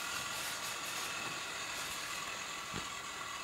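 A Hornby model locomotive on an LNER layout being run in, giving off a steady, loud grinding whir that holds continuously with little change in level.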